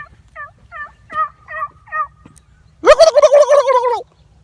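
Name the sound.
person imitating a turkey gobble to call turkeys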